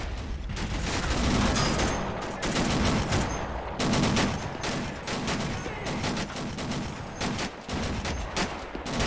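Tank guns firing in a World War II tank battle video game, a Tiger's 88 among them, heard as a long run of repeated heavy shots and bursts that stay loud and close throughout with no talking.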